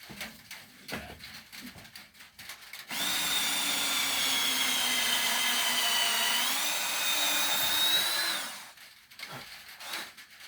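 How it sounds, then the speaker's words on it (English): A power drill whines steadily for about five seconds, pitch dipping slightly under load as it bores into masonry, with quiet handling noise before and after. "I will drill the rest of the way with the masonry bit"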